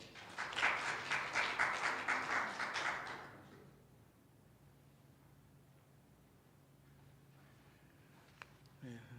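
Audience applause welcoming a guest speaker at a church gathering, a loud burst of clapping for about three seconds that fades out, followed by quiet room tone.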